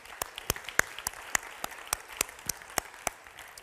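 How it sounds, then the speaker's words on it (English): Sparse audience applause at a conference for the event team, separate distinct claps in an uneven rhythm heard across a room, moderately quiet, with no one speaking. "If we could just give them a quick round of applause"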